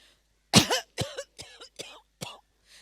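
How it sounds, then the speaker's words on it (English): A harsh cough followed by four more quick, rasping coughs in an uneven fit, close and fairly loud, with no talking. "This sent the poor queen into a long and lasting coughing fit."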